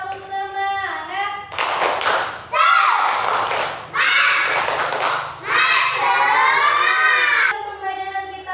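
Schoolchildren perform a rhythmic clapping chant, sharp bursts of unison hand claps alternating with sung or shouted voices in a patterned sequence, with a voice speaking at the start and end.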